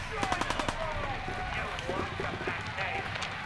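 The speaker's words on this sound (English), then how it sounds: "Who's shooting me?" Rapid bursts of gunfire aimed at the player in the video game Fallout 4, a quick string of sharp shots near the start followed by scattered hits and movement sounds, with someone talking over the action.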